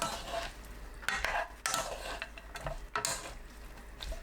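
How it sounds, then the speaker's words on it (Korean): A spatula stirs and scrapes a potato stir-fry in a lidded pan, giving soft irregular strokes and light sizzling, close and fairly quiet, with no talking. "4분 후 뚜껑 열고 골고루 섞어주세요."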